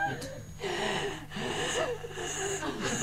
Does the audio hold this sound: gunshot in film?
no